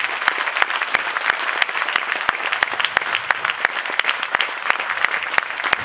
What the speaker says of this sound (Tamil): இப்போ நீங்கள் அவங்களுக்கு ஜோராக ஒரு தடவை கைத்தட்டல் கொடுக்கலாம்.